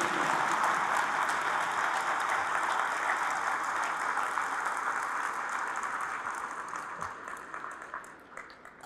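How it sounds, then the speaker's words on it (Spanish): A church congregation at a Catholic Mass applauds in a sustained wash of clapping that stays full for several seconds, then gradually tapers off. "Fuertes aplausos a Jesús de Nazaret."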